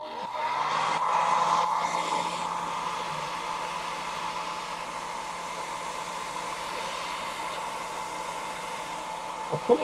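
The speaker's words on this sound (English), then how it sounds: "A little hair dryer treatment." A small hair dryer runs steadily and fairly loud for the whole stretch, a constant whooshing hum with no break and no talking over it.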